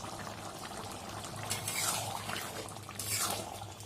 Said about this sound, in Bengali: দেখুন বন্ধুরা, ফুটছে